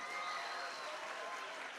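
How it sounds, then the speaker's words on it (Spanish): An audience at a school debate tournament in Azogues, Ecuador claps for competing school teams, a short, fairly faint burst of steady applause. "un aplauso al Colegio Luis Cordero y un aplauso al Colegio Javier Loyola"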